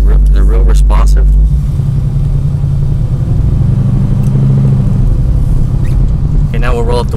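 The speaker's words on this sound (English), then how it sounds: "the car stops nice and straight." A car with disc brakes front and rear rolls and comes to a straight stop, heard close from inside as a loud low engine and road rumble that settles, with someone talking over it at the start and end.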